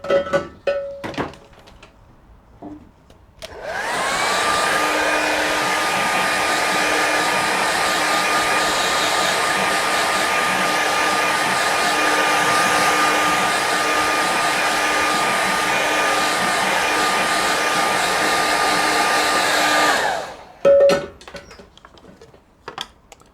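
A handheld hair dryer blows over a watercolour painting of a simple lake and mountain scene, a steady close whooshing hum lasting about sixteen seconds before clicking off, with faint brush and table taps around it.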